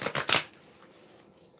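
A deck of cards is shuffled in a few quick, crisp riffling bursts close by, followed by near silence and a short final flutter.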